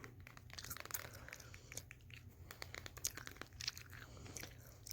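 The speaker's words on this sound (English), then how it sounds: "chewing some extra long lasting spearmint gum" Close, quiet chewing of extra long lasting spearmint gum, with moist crackles, snaps and clicks repeating irregularly over a faint steady hum, and no talking.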